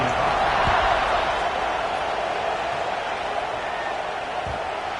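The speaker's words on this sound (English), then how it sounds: "this crowd is buzzing after that last score" Football stadium crowd after a score, a loud continuous roar and murmur of many voices filling the space evenly throughout, with no distinct individual words.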